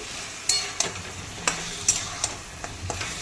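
Chicken and spices frying and being stirred in a pan for a dhaba-style chicken masala, with a spoon scraping and clacking at irregular intervals over a faint, low sizzle.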